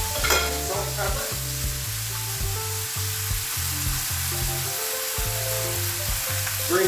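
Beef and gravy sizzle in a pan under constant stirring, a dense frying crackle punctuated by rhythmic scraping strokes of the spoon throughout, close and fairly loud.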